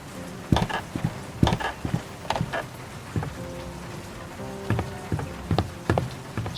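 Rain beats against an office window in the video game World of Goo 2, with irregular taps and patters of drops over a continuous soft wash, and a faint buzzing hum underneath.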